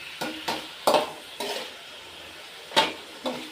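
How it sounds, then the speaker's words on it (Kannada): Chicken being fried on a low flame in a pan for a gravy, with a spoon stirring and scraping at irregular moments, each scrape a short clattering burst over a faint, steady sizzle. "ನೋಡಿ, ಈಗ ಫ್ರೈ ಮಾಡ್ತಾಯಿದ್ದೀನಿ"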